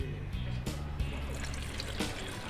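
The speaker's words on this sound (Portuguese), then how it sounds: "E você vai colocar água." Water poured into a pressure cooker, a continuous close splashing and gurgling fill lasting a couple of seconds.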